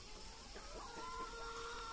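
Chickens and roosters on a small farm keeping egg-laying hens, with soft clucking and a drawn-out crow carrying over a steady background hum, faint and somewhat distant.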